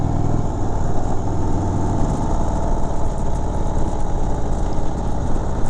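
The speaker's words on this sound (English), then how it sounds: "I'm barely touching the throttle and the bike is jumping." A 2019 Indian Chieftain Dark Horse motorcycle with a 116 big bore engine runs at a steady, even low rumble, close and constant throughout with no voices.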